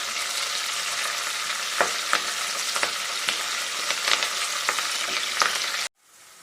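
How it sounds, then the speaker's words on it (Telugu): Curry leaves and onion fry in hot oil with a broad, constant sizzle, broken by occasional spoon scrapes as they are stirred, close and loud until the sound cuts off abruptly near the end. "ఇప్పుడు కరివేపాకు కూడా వేసుకొని మంచిగా ఫ్రై చేసుకోవాలి"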